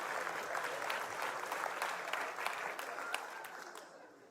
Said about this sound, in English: Not sure why people applauded just then